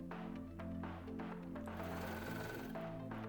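A sewing machine stitches the top edge of a medical shower apron, running steadily with a continuous motor hum and rapid needle chatter throughout, close and fairly loud.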